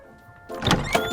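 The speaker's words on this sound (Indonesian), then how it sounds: "ternyata pintu yang dibuka." A door is opened: after half a second of near quiet, a sudden mechanical scrape and rattle rises and lasts to the end, fairly close.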